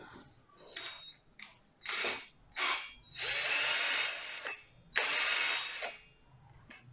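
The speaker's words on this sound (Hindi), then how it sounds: "ये है ड्रिल मशीन, बैटरी पावर्ड।" A battery-powered drill used for assembling a homemade plant auger whirs in several bursts, short spurts followed by two longer sustained runs, close and clear in a quiet room.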